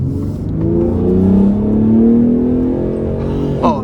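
A 2023 Ford F-150 Raptor's engine revs up under acceleration on the road, a loud, rising growl that swells and holds near the middle before easing, with a brief sharp sound near the end.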